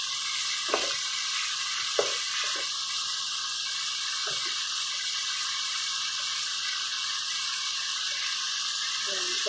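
Sliced, boiled meat frying in a pan for an Ilocano dish, with a steady loud sizzle and occasional scraping stir strokes near the start, with no talk over it.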